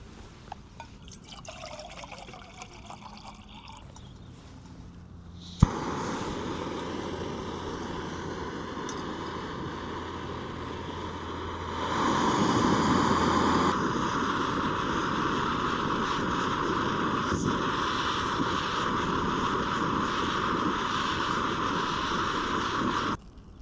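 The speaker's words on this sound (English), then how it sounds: "Using the MSR Pocket Rocket 2." An MSR Pocket Rocket 2 camping stove burns outdoors. After a sharp click, a steady gas roar starts and runs on without a break, swelling a little stronger midway while liquid trickles, with no talking.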